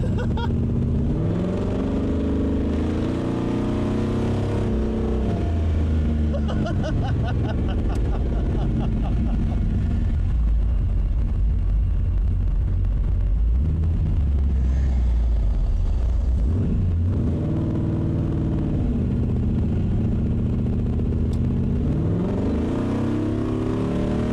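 An LS-swapped car drives hard with a loud, growling engine that rises and falls as revs climb and drop through manual downshifts, and a voice speaks intermittently over the roar.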